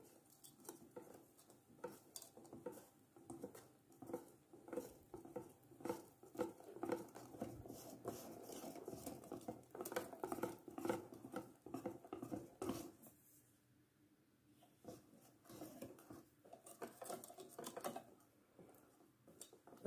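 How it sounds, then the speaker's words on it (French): Pancake batter being stirred with melted butter just added, heard as soft irregular patter and scraping of a utensil against the bowl, fairly quiet and close, easing off briefly before resuming. "Et on remélange."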